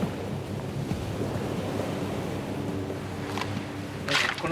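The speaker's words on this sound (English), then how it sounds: "huge ocean waves smash directly into buildings" Huge ocean waves and typhoon winds produce a continuous roaring wash of surf and wind rumble, loud and steady, with a surge of spray swelling near the end.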